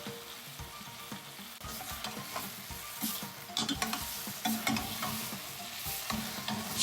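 Mushrooms stirred into a pan with softened, caramelizing onions, scraping and clacking in irregular strokes over a low, steady sizzle that builds slightly toward the end; no talking.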